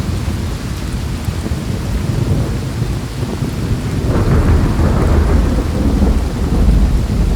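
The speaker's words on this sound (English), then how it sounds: "that rain kicking in" Recorded rain and thunder soundscape from a nature sound app: a constant heavy patter of rain under deep, rolling rumbles of thunder that swell louder partway through, with no voices.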